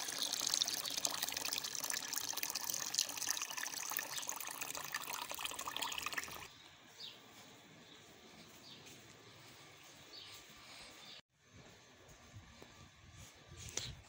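Cold filtered water pours into a sweet lemon drink made with sugar and isabgol husk, a steady bright splashing stream for about six seconds that then stops, leaving quiet room sound.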